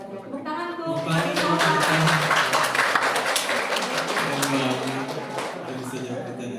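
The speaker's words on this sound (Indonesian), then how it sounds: "Tepuk tangan tuh." Children clap their hands together at a university charity gathering for orphans during a Ramadan fast-breaking meal, a dense burst of applause mixed with voices that swells and then tapers off.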